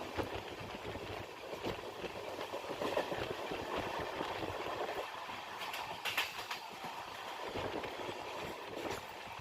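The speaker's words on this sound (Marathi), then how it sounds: "आत्ता आपली गाडी मोहोळ रेल्वे स्थानक क्रॉस करत आहे" An intercity train from Jeur to Solapur rolls through Mohol railway station, heard from on board as a steady rumble with wheel clatter and occasional sharper rattles, continuous and moderately loud, with no talk.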